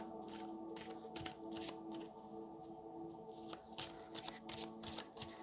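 Tarot cards being shuffled by hand, a soft continuous riffling and sliding with repeated crisp flicks, close but quiet, and no one speaking.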